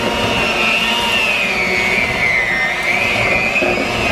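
An electric mixer whirs steadily as muffin batter is given a final mix in a home kitchen, a continuous close motor drone with a slight wavering pitch and no talk.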